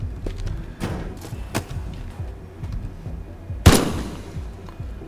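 A player's gun firing in a video game, a few sharp isolated shots spaced out, with one especially loud close blast near the end, amid low thuds and little talk.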